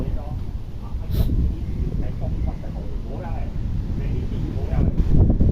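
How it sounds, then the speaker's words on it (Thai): Outdoor wind buffets the microphone in a steady low rumbling roar that swells toward the end, while someone talks over it. "บรรยากาศลม"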